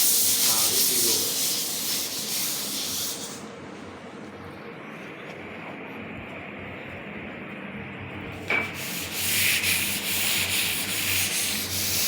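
Sandpaper rubbed steadily across a surface, a continuous close scratching hiss that drops to a softer, duller rasp for several seconds before brightening again.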